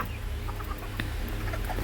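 Chickens clucking in a backyard coop, with soft scattered clucks and short calls over a steady low rumble, fairly close and without voices.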